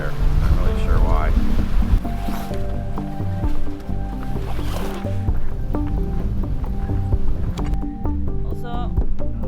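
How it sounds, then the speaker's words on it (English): Large breaking ocean waves around a sailboat at sea, rushing water and hull splashes surging loudly and irregularly, with bangs and creaks of the boat mixed in. "we've got huge breaking waves out there"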